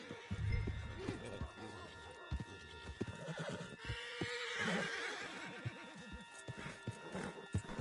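A horse in the Red Dead Redemption 2 video game whinnies loudly while its hooves clip-clop steadily nearby, with game sounds and a brief voice mixed in around the movement.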